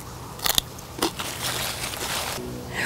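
Someone bites into crisp organic store-bought celery. A sharp crunch comes first, then a second snap, then close, crackly chewing that goes on steadily.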